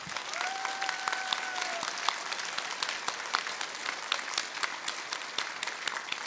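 Sustained applause from a sizable audience at the Indiana Comic Convention, a dense steady patter of many hands clapping at moderate volume, with a brief faint whistle early on.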